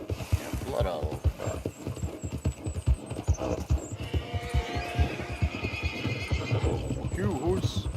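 A horse in a multiplayer video game neighs and whinnies over a dense, throbbing bed of hoofbeats and game noise, the calls loud and close and repeating through the clip.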